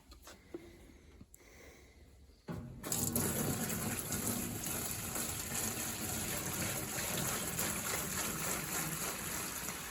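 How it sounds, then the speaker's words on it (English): Cleaning fluid poured from a container into an engine vent, a steady loud gushing pour that starts abruptly after a quiet few seconds of faint handling sounds and continues without pause to the end. "Pour the whole thing in there."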